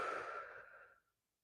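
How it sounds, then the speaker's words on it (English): A single long, close exhale during a yoga stretch, a soft breathy rush that fades out after about a second, then silence. "Breathing here."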